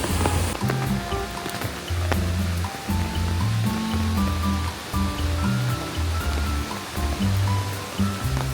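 Rain falls beside a fast-flowing stream on the Izu Dancer walking trail near the Kawazu Seven Waterfalls on Japan's Izu Peninsula, giving a continuous rushing, hissing wash of water that stays close and steady with no voices.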